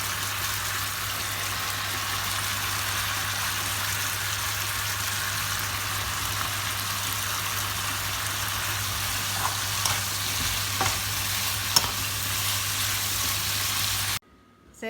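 Pork belly and holy basil leaves stir-fried in a wok, giving a steady, close sizzle that runs without a break and then cuts off abruptly at the end.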